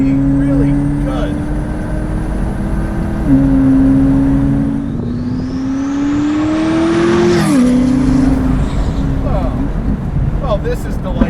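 A triple-turbo McLaren 12C Spider climbs a hill, its engine rising steadily through the gears with sharp shift breaks and turbo whoosh, loud and close from inside the car, with a voice talking over it.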